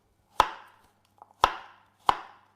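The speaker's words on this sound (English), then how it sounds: "you kind of nearly use up one of the whole apples to do the dicing" A knife dices apples on a cutting board with three sharp, close chops spaced unevenly apart, and small taps and quiet pauses fall between them.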